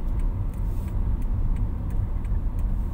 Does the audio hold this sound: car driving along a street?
yes